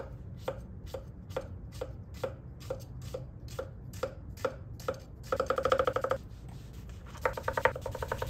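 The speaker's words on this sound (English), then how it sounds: "I'm just gonna destroy this goddamn onion" A very sharp new kitchen knife chops an onion on a board in steady, evenly spaced strokes, about twelve close crisp hits, then a faster burst of rapid scraping and chopping near the end.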